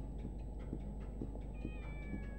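Cat meows in the video game Shenmue, a few repeated mewing cries over a steady background hum and game ambience, with a high sustained tone entering partway through.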